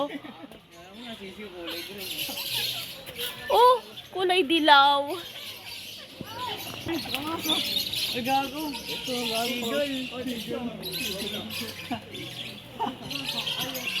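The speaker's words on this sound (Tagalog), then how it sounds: "mga ibon, iba't ibang ibon ang nandito" Birds at a mini zoo in Pugo, La Union, Philippines chirp and let out loud squawks, some shrill and drawn out, while people talk excitedly nearby.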